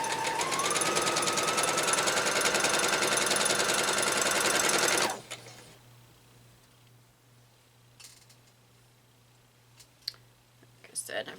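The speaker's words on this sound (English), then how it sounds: "Just your standard old sewing machine." A Brother Project Runway CS 5055 limited edition sewing machine stitches quilt pieces in a loud steady whir for about five seconds. It stops abruptly, and faint clicks and handling sounds follow.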